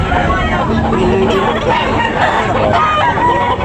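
A rooster crows loudly and close at a busy chicken market, over steady crowd babble and voices, with other fowl clucking nearby.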